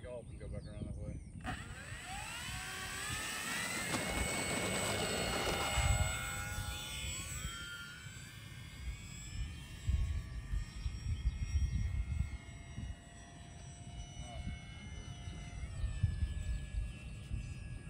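Pilatus airplane in a flight simulator game, a steady droning engine with shifting tonal whine as it throttles up for takeoff, with voices talking over it.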